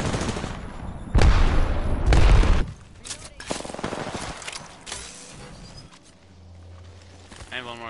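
Grenade blasts in an Apex Legends firefight, a couple of heavy booms near the start followed by scattered gunfire and smaller impacts that fade, with players talking over the action.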